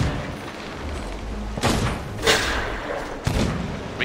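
Cannons fire on a pirate ship in the Sea of Thieves game: three separate heavy booms roughly a second apart, each a sharp blast with a short rumbling tail, over a low background of sea and ship ambience.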